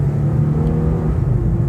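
Infiniti Q50 from 2015 pulling away under light throttle, a steady low engine drone and road rumble heard from inside the car, close and even.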